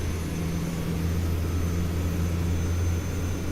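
Airbus A380 jet engine spooling up in a flight simulator, a low, steady, fairly quiet engine hum with a constant drone underneath and no talking.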